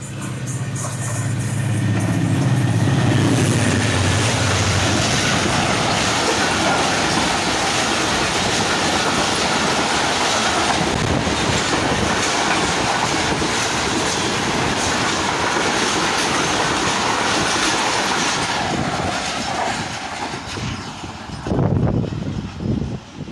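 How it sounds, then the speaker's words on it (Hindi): An Awam Express train hauled by a ZCU locomotive rushes past at about 110 km/h at Dhabeji station in Pakistan, a loud sustained roar of wheels and carriages with clickety-clack rhythm, easing slightly near the end. "जैसा कि आपने देखा 14 डाउन अवाम एक्सप्रेस में जेड सी यू लगा हुआ था, जो अपनी ट्रेन को जो है 110 की स्पीड से जो है वहाँ से लेके गया"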